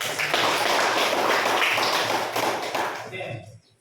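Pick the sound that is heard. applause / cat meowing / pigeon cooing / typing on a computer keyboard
applause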